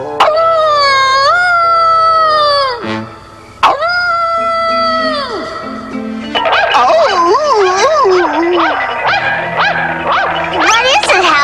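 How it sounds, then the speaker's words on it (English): A cartoon dog howls in long, rising and falling wails, close and loud, with a second stretch of wavering yips and howls overlapping; a voice may be producing the howling. "I'll howl ahead."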